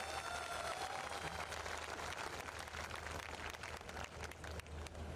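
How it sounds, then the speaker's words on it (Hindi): Dense, steady applause from a large audience at a Rupantran yatra gathering, many hands clapping quickly and evenly at a moderate distance for several seconds, with no speech over it. "बहुत जोरदार तालियां चाहता हूँ।"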